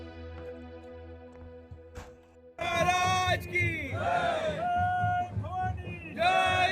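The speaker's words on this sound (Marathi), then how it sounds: "मिरवणूक देखील गाजत वाजत काढण्यात आली" A crowd at an election procession for a Mahayuti municipal council president candidate in Khed cheers and chants. Quiet background murmur gives way to loud, rhythmic group shouts that rise and fall in repeated bursts.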